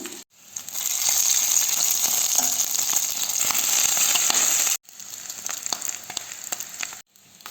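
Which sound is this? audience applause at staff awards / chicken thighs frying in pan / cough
chicken thighs frying in pan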